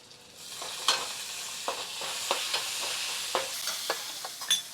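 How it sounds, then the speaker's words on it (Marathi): Mustard seeds, cumin, crushed garlic, asafoetida and washed curry leaves sizzling in hot oil for a tempering, a steady crackle with scattered sharp pops and spits, close and fairly quiet. "मस्तपैकी फोडणी दिलेली आहे मी"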